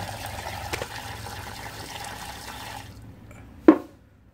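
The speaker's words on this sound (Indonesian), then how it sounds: "air mengalir seperti biasa" Water runs steadily from a household mains water pipe after a valve is opened, a close trickling rush that stops abruptly, followed by a single sharp drip or knock.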